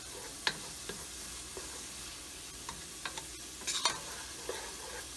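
Ground turkey chili is stirred in a pan, with soft scattered scrapes and taps of a utensil over a quiet, steady low sizzle.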